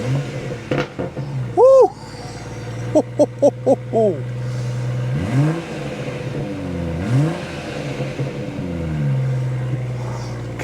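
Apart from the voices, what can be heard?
BMW M240i with GPF delete exhaust revving, launching with brake held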